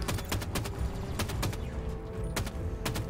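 Gunfire rattles through a Halo 5 firefight, sharp shots cracking in quick irregular bursts with short gaps, loud and close over a low rumbling game backdrop.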